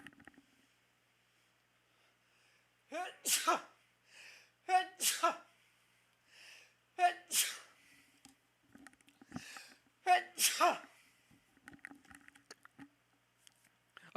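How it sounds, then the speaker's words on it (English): A sneeze bursts out during a live stream about Nintendo Switch 2 cases, preceded by a couple of sharp intakes and followed by several more bursty sniffs and breaths, close to the mic. "I'm gonna sneeze, guys."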